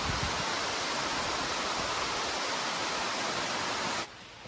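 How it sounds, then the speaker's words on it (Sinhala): Ali 7 waterfall at Maliboda, Deraniyagala, a large fall spreading across a broad rock slab, roars as a steady, loud, dense wash of falling water that cuts off sharply near the end. "ඉතින් විශාල ගල් තලාවක් පුරාවට මේ දෙවනි ඇල්ලත් පැතිරලා තියෙනවා"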